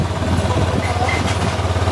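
A motorcycle engine with a suspected knocking fault runs steadily up close, a low rumbling idle with a faint irregular clatter mixed in and no talk over it.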